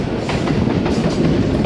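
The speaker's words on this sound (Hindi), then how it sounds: "ट्रेन इस वक्त दाखिल हो चुकी है राव खान वाला रेलवे स्टेशन की हदूद में" A Bulleh Shah passenger train on the Lahore to Khudian Khas line entering Rao Khan Wala railway station in Pakistan gives a loud, steady rumble with rhythmic wheel clatter close by.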